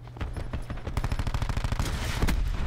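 Rapid bursts of video-game gunfire from Call of Duty 4 in Gun Game mode, loud repeated shots rattling in quick succession over a steady background with no talking.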